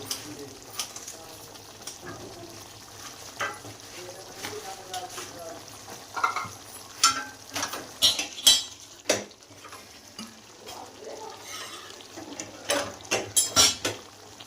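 Chicken white karahi being stirred and roasted in a pan, with scattered metallic clinks and scrapes of a spoon against the cookware, some sharp and close, over a quiet background, no speech.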